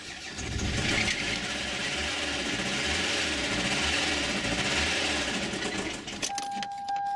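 A Toyota car engine running on thin, dirty oil drones steadily and loudly with a rough, clattering texture, then falters and stops near the end, with no one speaking.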